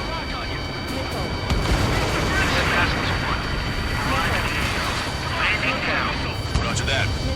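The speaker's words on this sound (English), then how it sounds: "Missile." Missiles launching and explosions in the combat flight game Ace Combat 7, a dense continuous rumble of blasts and booms under the mix, with radio chatter from voices over it.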